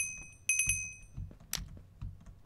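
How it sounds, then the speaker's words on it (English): Alarm clock going off in a Minecraft adventure map, a short bright ringing burst followed by a few scattered clicks and light game sounds, with no talk. "Thank you, alarm clock."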